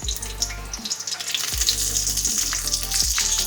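Panch phoron spices frying in hot mustard oil, a steady close sizzle and crackle with short bursts of spitting, no voices.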